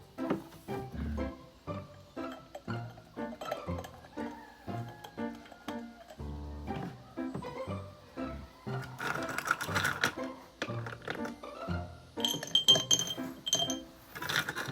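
Glasses clink and knock repeatedly in an irregular rhythm while a Coke float is being prepared, with sharp close taps over light handling noise and a brighter clatter near the end.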